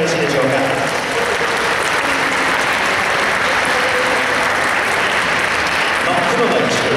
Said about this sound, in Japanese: 拍手でお出迎えいただいてよろしいでしょうか